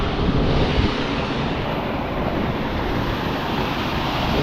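Pond water below a viewpoint sloshing and rippling as a steady broadband wash, with outdoor wind buffeting the microphone, continuous and fairly loud, with no talk.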